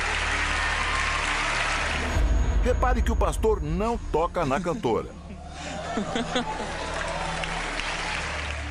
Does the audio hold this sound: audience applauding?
yes